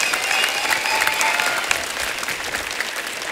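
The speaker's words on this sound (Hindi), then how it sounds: "जोरदार तालियां सबके लिए।" A studio audience on a TV comedy show claps in a dense, steady wash of applause, fairly loud and sustained throughout without any talk on top.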